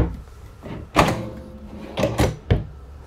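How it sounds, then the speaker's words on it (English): A soft-close drawer in the kitchen of a 2021 Forest River Cedar Creek 388RK fifth-wheel RV gives a few soft muffled knocks and slides, with no talk in the gap between them. "Yes, soft touch drawers."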